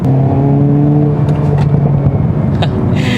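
The exhaust of a Hyundai Kona N driven on a circuit booms at around 2500 to 3000 rpm, a loud, steady, low drone heard from inside the cabin.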